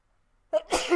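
A single sharp human sneeze, a quick inhaled catch then a loud bursting exhale, close and brief after a moment of silence.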